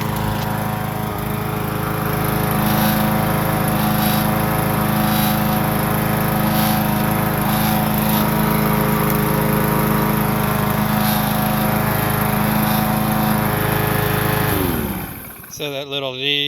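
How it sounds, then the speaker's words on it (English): A push lawn mower with a plastic deck runs in a loud, steady drone, its blade striking the front of the deck, then the engine cuts out abruptly near the end. "So that little noise that you hear is actually the blade hitting the front of the deck there."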